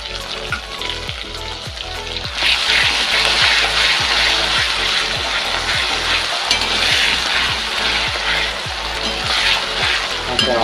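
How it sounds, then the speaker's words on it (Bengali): Ginger-garlic paste hits onions frying in hot oil for masala onion chicken, and the sizzle jumps to a loud, dense, continuous hiss that holds steady until the end. "এবার ওই বাটা আদা রসুন বাটা পেস্টটাকে দিয়ে দেবো।"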